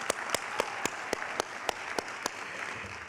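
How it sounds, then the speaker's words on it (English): At a Who's Who in Black Columbus event, a fairly quiet audience applauds, a soft clapping bed punctuated by sharp single claps landing at a regular beat, nearly one every quarter second, with no talk over it. "Let's get Derek Clay a round of applause here."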